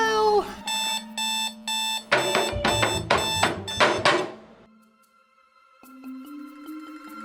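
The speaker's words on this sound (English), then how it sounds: "first my alarm goes off" An alarm clock goes off with a run of loud repeated electronic beep bursts in a steady rhythm, then stops, followed by faint softer tones.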